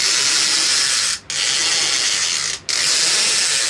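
Power Rangers Super Megaforce Turbo Falcon Megazord toy with its wheels pressed down, giving a steady close rasping ratchet-like whir with two brief gaps where the pressing stops and restarts.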